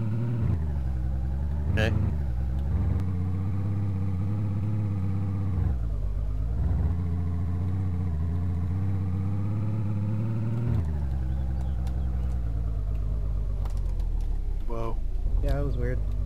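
A car engine in DayZ hums and rumbles steadily while driving, pitch dipping and rising as it slows and speeds up, with someone speaking briefly over it.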